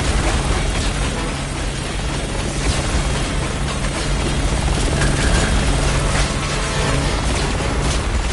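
A helicopter rotor drones in the video game Resident Evil 6 while explosions and bursts rumble through a loud, dense, continuous battle din.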